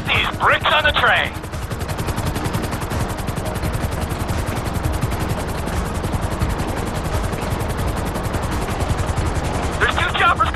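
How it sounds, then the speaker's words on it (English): Rapid, continuous rotor chop of two helicopters approaching a train in Grand Theft Auto 5 fills the scene, with bursts of gunfire-like crackle near the start and end. "There's two choppers coming toward my train."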